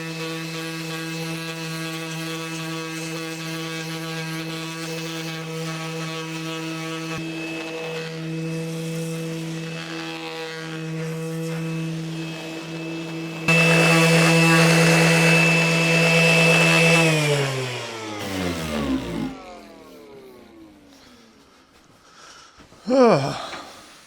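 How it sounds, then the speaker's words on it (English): A power sander with 60-grit paper works a wooden rocker for a cradle, its steady motor whine growing louder partway through before spinning down to quiet, with a brief thump near the end. "I'll try to sand this with 60 grit and see what it looks like."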